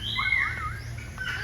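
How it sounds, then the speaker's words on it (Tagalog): A white parrot calls at a crocodile park and zoo, its shrill rising and falling cries repeating over steady outdoor background noise. "Ang parot na white yata."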